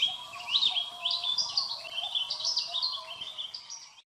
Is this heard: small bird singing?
yes